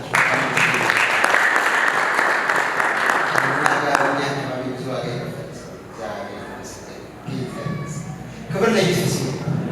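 A church congregation claps during a sermon, a loud burst of many hands lasting about four seconds, then fading as a preacher's voice carries on over scattered later claps.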